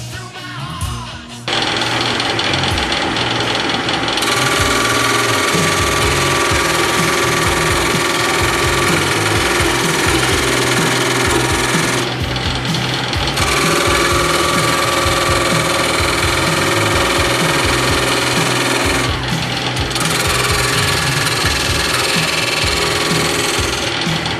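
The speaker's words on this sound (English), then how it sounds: "These cuts were made with the spear point." A wood lathe spins a block while a spear point chisel cuts into it, a loud continuous motor hum and chattering rattle close by that briefly dips twice, with no voices.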